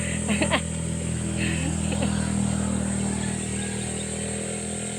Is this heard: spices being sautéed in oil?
no